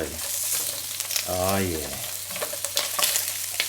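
Bacon frying in a pan for an Aussie bacon, egg and cheese roll, giving a steady sizzle throughout with a brief spoken interjection over it.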